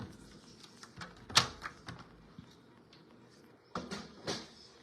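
Cardstock being trimmed for a handmade card, a few quiet sliding cuts and clicks from a paper trimmer, close and soft, with one sharper snap near the middle.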